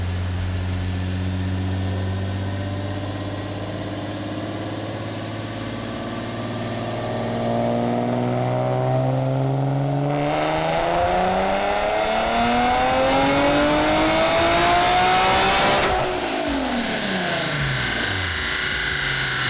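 A supercharged Nissan 370Z exhaust idles with a deep rumble, then revs up repeatedly, the pitch climbing to a loud, raspy roar before dropping back.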